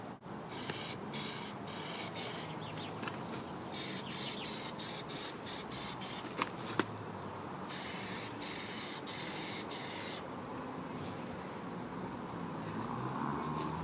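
Plasti Dip sprays onto small car parts in short, rhythmic hissing bursts separated by brief pauses, loud and close, followed by a steadier stretch of spraying near the end.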